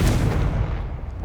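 A Confringo blast spell in the game Hogwarts Legacy lands as a single deep, booming explosion that rumbles and fades over about a second, heard alone.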